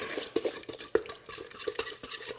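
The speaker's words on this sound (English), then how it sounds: "Now I'm going to get my mixer, and I'm just going to give this a stir." Sourdough bagel dough gets a stir in a mixing bowl, soft uneven scraping with a few light clinks of a utensil, close and quiet, no voices.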